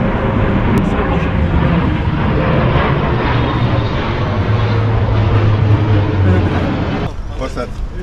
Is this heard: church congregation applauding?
no